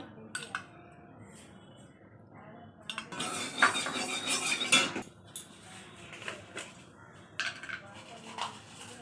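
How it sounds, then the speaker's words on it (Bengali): Metal utensils clink and scrape against a kadai (wok) as oil goes in for a chili prawn dish after frying fish, quiet intermittent clatter with a louder burst of scraping in the middle. "এবারে কড়ায় তেল দিয়ে নেবো"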